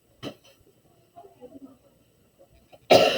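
A person coughs during a math lesson: one sharp cough burst near the start, then quiet murmuring, and a loud, harsh cough at the end.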